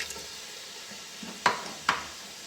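Potato pulao masala coated with yogurt sizzles softly in the pan, and two sharp scraping clinks of a spoon against the pot stand out near the end.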